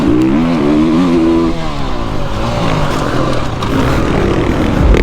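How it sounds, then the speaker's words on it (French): A motocross motorcycle engine screams through a race lap, loud and close with shifting revs and pitch changes as the rider jumps a triple. "je me sens vraiment bien sur la moto et le fait de sauter le triple à tous les tours"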